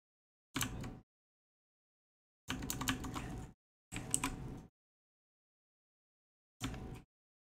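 Short bursts of clicking on a computer keyboard, four separate clusters of quick keystrokes with silent gaps between, close and fairly quiet.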